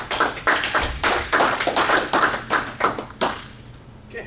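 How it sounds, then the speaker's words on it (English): A small audience gives a short round of applause at a speech about ALS: sparse, uneven clapping with distinct individual claps that thins out and fades within a few seconds. "Can we give him a big round of applause?"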